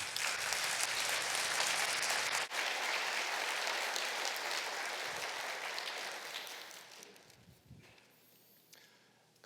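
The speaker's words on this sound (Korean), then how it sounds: "나오실 때에 뉴송의 따뜻한 박수로 맞이해 주셨습니다" A church congregation at a Sunday service claps warmly to welcome a speaker. The dense applause fills the room, then thins and fades out toward the end.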